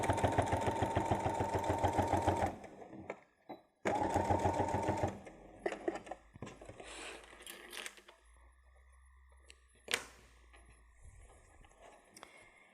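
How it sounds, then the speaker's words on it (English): A sewing machine stitching a fabric travel pouch, running in two loud, rapid, steady bursts, then stopping for quieter handling noises, clicks and rustles of fabric. "I want to check that everything's meeting in the right place before I sew over it"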